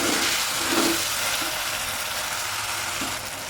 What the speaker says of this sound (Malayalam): തക്കാളി ഒന്ന് വഴഞ്ഞ് വെക്കണം